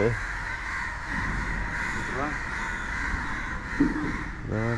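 A crow caws several times, harsh and nearby, over a steady background hum with faint voices.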